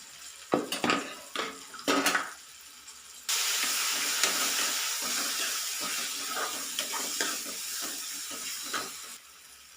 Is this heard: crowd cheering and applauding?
no